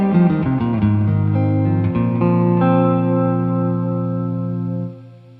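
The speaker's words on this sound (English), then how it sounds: "So you start hearing more reflections, more brightness there on the reverb trail." Electric guitar chord through a Carl Martin HeadRoom Mini compact digital spring reverb, set bright with maximum decay: a few quick strums ring out into a long, shimmering reverb tail that sustains and then cuts off.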